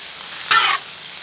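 Sausage and green chiles stirred on a Blackstone griddle give one short, bright scrape-and-sizzle burst midway, standing out over a quiet background hiss.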